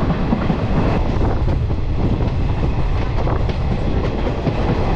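A passenger train on the Sealdah to Azimganj line runs steadily along the rails, a loud, continuous rumble with faint rhythmic clickety-clack heard from on board, mixed with wind noise and no talking.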